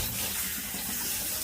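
Boiled mustard greens are rinsed under cold running water from a tap, a steady close rush and splash of flowing water without pause.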